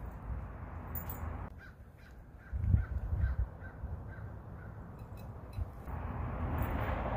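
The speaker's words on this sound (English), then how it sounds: "birds in the sky" A couple of crows caw faintly in the distance over a steady outdoor rumble of passing traffic, with no talking.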